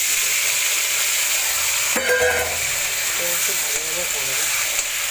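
Sliced onion hits hot oil tempered with bay leaf, with a steady loud sizzle throughout and stirring scrapes partway through, while a person talks over it.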